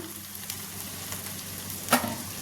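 Cooked rice tipped into mutton keema frying in a pan, a steady close sizzle with a single sharp burst as the rice lands.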